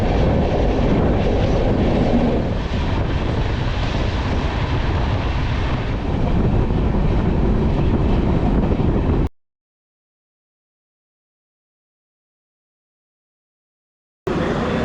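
Vivek Express train at Kanyakumari railway station in India, a steady loud rumble of the moving train with wind buffeting for about nine seconds, then silence before the noise briefly returns.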